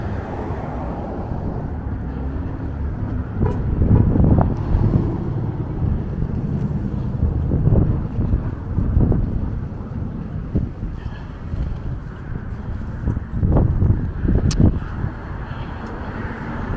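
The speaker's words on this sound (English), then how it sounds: "See that wind, man." Strong wind buffets the microphone along a Brooklyn avenue in Bay Ridge, a continuous low roar rising in gusts, with faint street traffic underneath.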